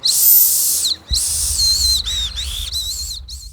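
Shrill, breathy whistling from a Taiwanese candy whistle in several blasts, the first long and airy, then shorter warbling toots with wavering pitch, loud and close.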